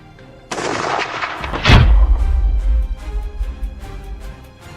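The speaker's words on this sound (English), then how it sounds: "A loud gunshot echoed, and the boar was immediately taken down." A rifle shot fired at a wild boar during a hunt cracks loudly and sharply, followed by a heavy, rumbling echo and low booming that rolls on for several seconds before fading.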